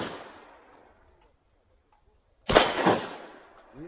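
An MP-155 shotgun fires at a shooting stand: a fading tail gives way to a quiet pause, then one sharp, loud, close blast rings out and decays slowly.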